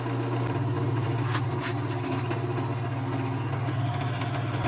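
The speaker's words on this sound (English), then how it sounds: "let's turn the lathe on at our lowest speed and then advance the tailstock" A wood lathe spinning at its lowest speed during woodturning, giving a steady low motor hum with a constant droning tone and faint ticks, fairly quiet and unchanging throughout.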